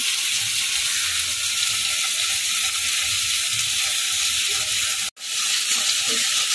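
Soy sauce and tomato sauce being stirred in a frying pan give off a steady sizzle and hiss throughout, with a brief drop to silence near the end before the frying noise resumes.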